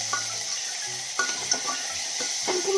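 Chopped onions frying in a pan with a steady bright sizzle, punctuated by light stirring clinks and scrapes of a utensil against the pan.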